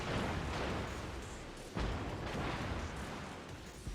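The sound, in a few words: USS Seattle cruiser guns firing in World of Warships video game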